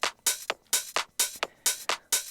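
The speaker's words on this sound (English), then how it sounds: "that's the drums without a kick drum" House music drums without a kick drum: crisp hi-hats and claps tick in a steady, quick pattern, bright and thin with no low thump, playing alone.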